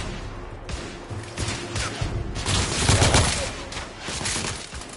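Sustained suppressing gunfire in a Victorian-era shooter, The Order: 1886, a dense barrage of overlapping shots that swells toward the middle and stays loud and continuous throughout.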